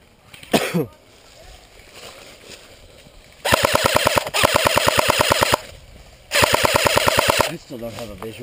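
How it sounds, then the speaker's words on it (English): Airsoft guns fire rapid automatic bursts during a skirmish, two long rattling volleys of closely spaced sharp snaps, fairly close, with a brief shout and quieter gaps between. "They're shooting at you guys."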